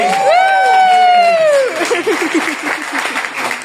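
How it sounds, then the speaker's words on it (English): Comedy club crowd in Dublin starting to applaud after a loud cheer or whoop, with clapping and babble building under it. "give a big round of applause for Yassine!"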